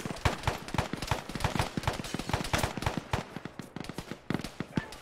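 Rapid gunfire from the northwest during a squad-based combat operation crackles in dense, irregular volleys of sharp shots, some bursts close and loud, others more distant, continuing without pause.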